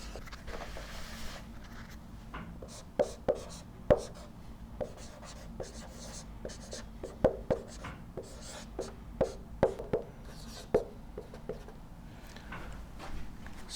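Pen or chalk writing equations by hand during a lecture on inverted pendulum dynamics, irregular taps and short scratchy strokes, fairly quiet, with sparse bits of speech nearby.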